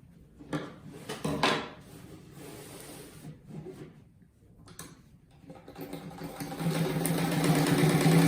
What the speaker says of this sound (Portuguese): Daí agora eu vou passar uma costurinha aqui na ponta.